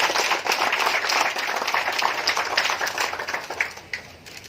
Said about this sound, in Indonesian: sekali lagi kita berikan tepuk tangan